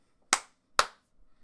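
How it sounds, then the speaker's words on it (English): Two sharp hand claps for sync, close and crisp, about half a second apart with quick decaying tails, in an otherwise quiet room. "Clap sync."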